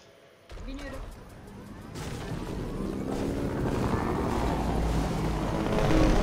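A helicopter in the video game Fortnite starts up and its rotor wash and engine build into a steady, swelling roar that grows louder to the end, close and dominant in the mix.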